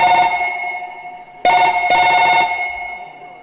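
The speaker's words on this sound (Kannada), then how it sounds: "ಮೊದಲು ಆ ಇನ್ಸ್ಪೆಕ್ಟರ್ ಸಂದೀಪನಿಗೆ ಮೊದಲು ಫೋನ್ ಮಾಡೋಣ" A telephone rings loud and close with an electronic tone. A short burst is followed by a pause, then a longer second ring, with no voices.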